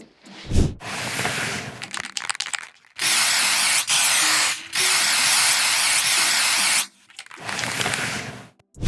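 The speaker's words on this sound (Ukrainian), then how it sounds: "Спочатку наносимо лак, покажу, як наноситься лак" A spray gun applies clear coat lacquer to a car body during a repair blend, giving long, loud, close hissing bursts of several seconds separated by short pauses.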